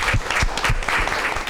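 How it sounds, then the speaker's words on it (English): Audience clapping for panelists at a quantum science event at Yonsei University, a short burst of close, moderately loud hand claps without voices. "Let's give them a round of applause"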